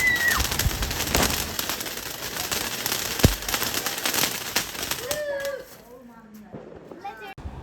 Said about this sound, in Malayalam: എല്ലാവരും ഭയങ്കര പടക്കം പൊട്ടിക്കേണ്ട തിരക്കിലാണ്